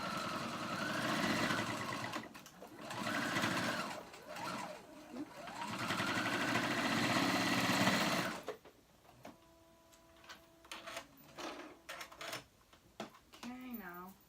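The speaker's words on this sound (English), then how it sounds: "Okay, so I'm going to go ahead and sew that one on." A home sewing machine stitches boys' fly pants in two long continuous whirring runs, then stops; shorter mechanical clicks and a voice follow once it stops.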